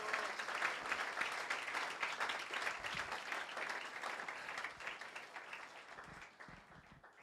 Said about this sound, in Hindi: जोरदार तालियां खुदा यीशु मसीह के लिए।